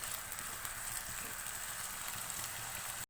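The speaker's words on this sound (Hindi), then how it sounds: "फ्लेम हाई करेंगे और टमाटरों को प्याज के साथ अच्छी तरह से भून लेंगे" Tomatoes and chopped onions fry together in a pan over a high flame, giving a steady, dense sizzle and crackle that runs unbroken and fairly close, with no talking.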